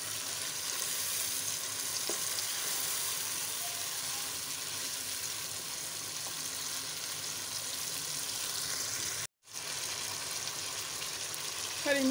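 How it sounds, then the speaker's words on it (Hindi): Desi chicken karahi frying in a pan as a spoon stirs it, a steady close sizzle that continues throughout with only faint utensil movement and a brief break. "पाँच मिनट के लिए ऐसे ही चम्मच हिलाना है ताकि इसके अंदर अच्छे से मिक्स हो जाए"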